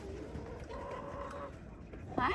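Backyard chickens stir in the morning, with soft clucks and a drawn-out call at fairly low volume, closing with a sharper squawk.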